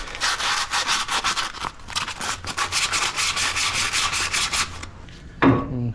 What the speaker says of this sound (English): I got some sandpaper on me. And clean it up. And go around it.